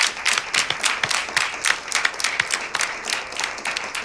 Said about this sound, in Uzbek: Bitta chiroyli qarsak Qamariddin Shayxovga.